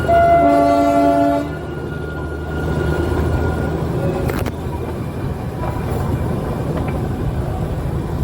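A Darjeeling Himalayan Railway train climbs a zigzag reversing track, opening with a loud, sustained horn blast and then a steady rumble and rattle of the wagons, with a brief metallic screech partway through.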